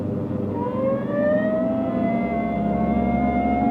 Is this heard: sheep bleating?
no